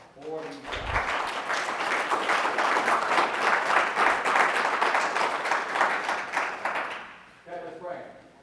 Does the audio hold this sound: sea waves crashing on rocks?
no